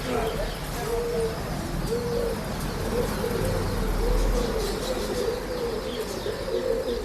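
Male breeding pigeons coo in soft, repeated low phrases throughout, moderately close, over a steady background hum with some wing and rustling sounds.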